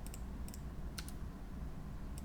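Computer keyboard key presses while working in Blender 3D software: a few faint, quick clicks in small pairs over a steady low hum of background noise.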